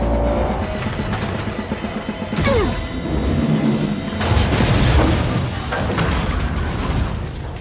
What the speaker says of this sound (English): jumping out of an aircraft a split second before it explodes